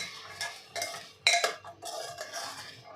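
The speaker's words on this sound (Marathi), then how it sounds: "आता आपल्याला तीन ते चार मिनटे हा तांदूळ तुपामध्ये परतून घ्यायचा आहे" Basmati rice and peas stir-fried in ghee, heard as bursts of utensil scraping and clinking against the pot in uneven strokes, close and fairly clear with no talk over them.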